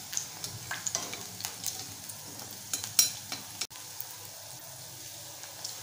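Soya chunks shallow-fry in a pan for spicy chilli soya, with a steady close sizzle and frequent light taps and scrapes as the pieces are turned, and no talk.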